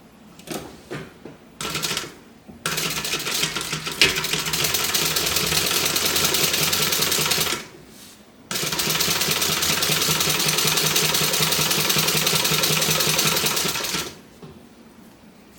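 A sewing machine stitches a quarter-inch seam on a fabric clutch, running in two long steady bursts of rapid mechanical chatter with brief pauses and a few short starts before and between.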